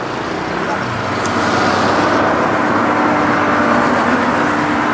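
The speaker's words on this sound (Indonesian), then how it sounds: "Dump truck sudah datang." Dump truck arriving at an excavator loading site, a steady broadband engine and road rumble that swells slightly as it approaches, with a voice talking over it.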